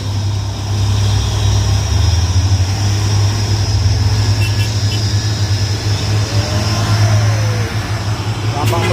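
A Toyota Fortuner and a truck straining up a steep hill road, engines droning loud and steady with a low rumble that swells and eases, people talking over the noise throughout.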